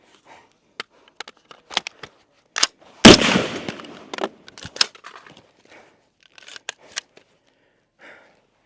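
A Geissele Super Duty HBAR rifle, overheating during sustained fire, lets off sharp irregular shots spaced through a magazine, distant-sounding cracks with one louder, longer blast midway and quiet gaps between.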